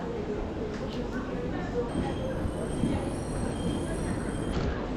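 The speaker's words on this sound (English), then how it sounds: "Our train today is a triple voltage TGV Réseau single deck unit" A triple-voltage SNCF TGV Réseau single-deck train stands at or rolls past a platform, giving a steady loud rumble with faint high whines, while a voice talks over it.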